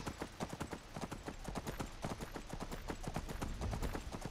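Horse hooves trot in Skyrim with the Helgen Reborn mod, making a quick, steady clip-clop rhythm of close, distinct hoofbeats that lasts throughout.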